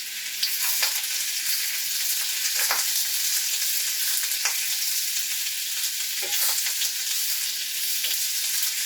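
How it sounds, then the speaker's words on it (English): Onion and zucchini sauteing in oil in a pan give a steady, even sizzle throughout, with a few soft clinks and stirring scrapes and no voices. "So you're just going to saute this for a few minutes, till the zucchini starts to lose a lot of the moisture and the onions become translucent and soft."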